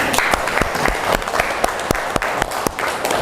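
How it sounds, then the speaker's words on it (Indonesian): Classroom applause for a student group after their presentation, dense steady clapping from a room of people, close and continuous throughout with no talk over it. "Tepuk tangan untuk kelompok 1."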